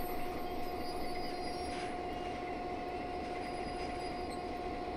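Freight train wheels squealing on the rails near Cheyenne on Sherman Hill, a thin sustained high-pitched squeal ringing over a steady low rumble of rolling cars, constant and moderately distant, with no talk.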